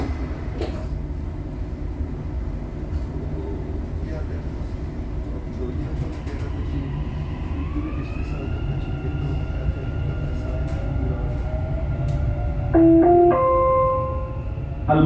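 Dubai Metro train pulling away from a station after its doors shut, a steady low rumble with rising electric motor whine that climbs in pitch, plus a brief chime or tone near the end.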